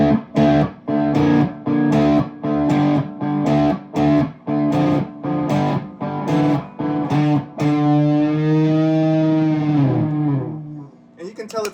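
Guitar through a delay pedal resembling a Boss DD-3 in an Adam Jones-inspired rig: distorted, rhythmic chopped notes followed by a sustained chord whose repeats trail off, loud and close, with no talking.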